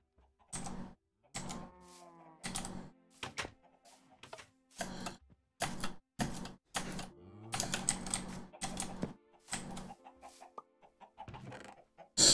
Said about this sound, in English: We're doing really good on the chickens.